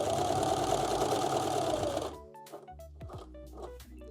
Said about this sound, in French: Pour faire un angle à la surjeteuse, je vais simplement venir coudre un point au-delà de l'angle de mon tissu.